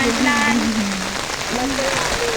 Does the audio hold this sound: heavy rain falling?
yes